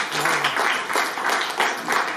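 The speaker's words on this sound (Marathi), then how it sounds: "संघासाठी टाळ्या वाजवा, लिटरली वाजवा." A room of elderly listeners at a talk on senior citizens' health applauds together, a steady broadband patter of clapping with slight surges, lasting a couple of seconds without voices over it.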